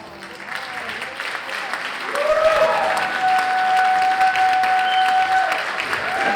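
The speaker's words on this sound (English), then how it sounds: "Come on out and get your full applause" A crowd applauds at a church's 50th anniversary gala, the clapping swelling louder midway and holding steady, with a sustained tone ringing through it and voices mixed in.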